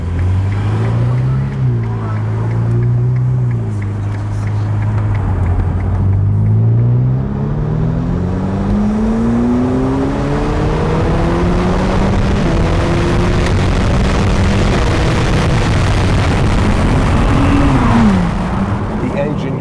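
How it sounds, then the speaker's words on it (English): A 2020 Ferrari F8 Tributo engine revs hard with a loud, raspy exhaust, heard from inside the car, pitch climbing and dropping through several upshifts and downshifts over a steady road rumble. "so we can get the full exhaust sound inside the car"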